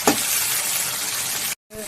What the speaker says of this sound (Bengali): টমেটো কুচিটাকে একটু সুন্দর করে ভেজে নেব।